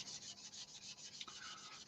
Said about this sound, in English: we're just going to see what happens with a part worn sanding sponge